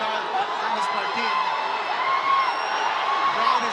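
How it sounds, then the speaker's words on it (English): Arena crowd at a professional boxing bout between a Philippine and a Thai fighter, a dense, steady roar of cheering and whooping sustained throughout, with a commentator's voice running over it. "crowd is roaring."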